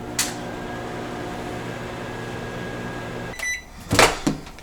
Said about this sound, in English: And we'll put it back in the microwave